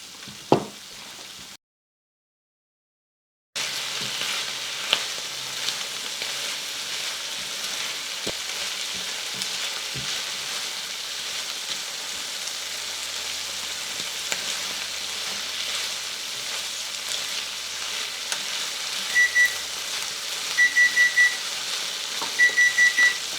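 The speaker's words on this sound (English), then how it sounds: "we're going to let these sit here and saute for about 6 minutes until they're good and soft" Vegetables sautéing in a pan give a steady, even sizzle and crackle that runs throughout, close and moderately loud, with a brief dropout near the start and a few short electronic beeps toward the end, no talking.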